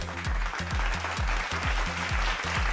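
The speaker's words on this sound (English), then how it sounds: "Big round of applause for the winners." An audience applauds the prize winners at an awards ceremony, a broad spread of clapping over a low repeating thump, steady and fairly loud, with no speech.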